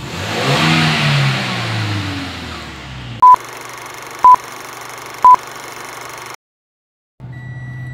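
A 2016 Toyota Innova Reborn engine just after Blackcore tuning, revving loudly then settling. Three short electronic beeps follow, then a brief dropout before the engine hum returns.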